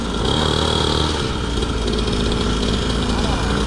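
Motorcycle engine running steadily, loud and close, a continuous buzzing drone that holds through the whole stretch without clear revving changes.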